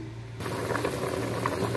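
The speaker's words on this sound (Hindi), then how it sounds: "उबाले आने शुरू हो गए हैं पानी में" Water in a pot for chicken pulao comes to a steady boil, a close, continuous bubbling hiss that starts abruptly and holds without talk.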